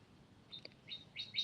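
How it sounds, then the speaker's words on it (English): Birds chirp faintly in the background, a few short high tweets spaced out over a second or so, growing slightly louder toward the end. "I have birds."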